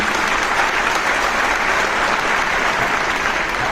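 Steady, dense applause from a large audience fills the whole stretch without letup, greeting Jordan Peterson and Ben Shapiro at an event in Israel.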